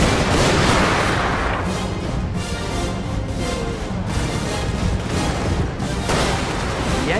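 Soldiers firing volleys in a Steam & Steel mod of a video game, a loud, continuous wash of massed musket-like shots and battle noise, dense and unbroken throughout.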